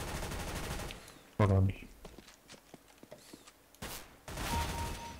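CS:GO co-op mission gunfire: a loud burst of shots, then sparse scattered pops and a later sharp volley, with people talking in between.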